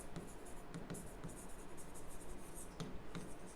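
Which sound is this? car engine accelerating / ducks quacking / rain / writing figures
writing figures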